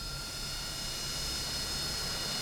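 A Harrier jet engine running in a video game, a steady loud whine and roar with constant high tonal hum over broadband rushing noise, unchanging and alone.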